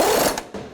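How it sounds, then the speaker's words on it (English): A ratchet wrench snugs the rear lower control arm bushing bolts and nut on a 2005-2009 Subaru Outback, giving a brief, loud, close burst of rapid metallic clicks. "we're going to snug these rear control arm bushing bolts and nut"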